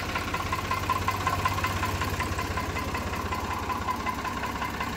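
A 2012 Eicher 485 DI tractor diesel engine idles steadily at close range, a continuous low throbbing rumble with a regular knock, running alone without speech.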